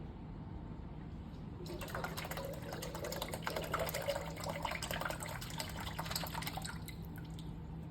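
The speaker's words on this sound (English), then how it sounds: "the can has created a vacuum sucking water up into it" A soft hiss turns into a steady gurgling, bubbling rush of water sucked into a crushed can by vacuum, close by and continuous, with a low hum beneath.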